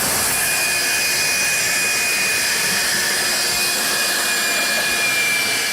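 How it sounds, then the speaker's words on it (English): Steady, loud whooshing roar of a vacuum cleaner running continuously with a high whine, no voices. "The vacuum will suck it all up."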